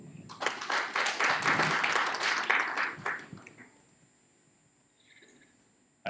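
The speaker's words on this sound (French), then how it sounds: "Je pense qu'on peut les applaudir un petit peu." Applause from an audience at an official workshop presenting a teaching kit in Cameroon, with sustained clapping for about three seconds that then fades, leaving a quiet room.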